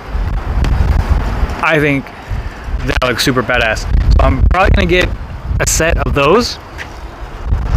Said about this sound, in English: if this wind will stop.